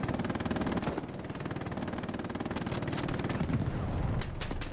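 Gunfire in the WWII shooter Hell Let Loose on Omaha Beach, with continuous dense battle noise and rapid rattling shots throughout and a sharper crack near the start.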